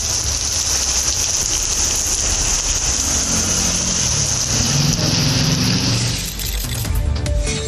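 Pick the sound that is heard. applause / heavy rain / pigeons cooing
heavy rain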